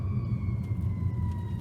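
Ambulance siren wailing in steady continuous tones, heard from inside a moving car over low road rumble, fairly faint and distant.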